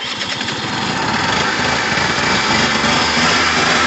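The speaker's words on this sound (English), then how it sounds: "Look, small amount of revs." A Gilera DNA 125 scooter engine runs after a fuel problem fix, a buzzing small-engine drone held close and loud with slight rises in revs throughout.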